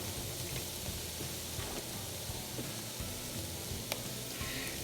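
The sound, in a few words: chopped garlic sizzling in a pan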